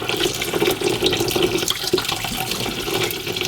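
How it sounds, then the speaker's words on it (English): Water runs into a sink filling with filtered water as lettuce leaves are dropped in, a steady close splashing and gurgling stream with no talk. "throw it in the water."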